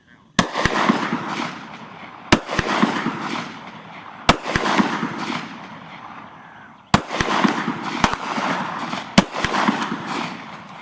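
Five sharp gunshots ring out at a Carhartt jacket used as a target, each a loud crack followed by a decaying echo, spaced roughly two to three seconds apart with a couple of quick double reports.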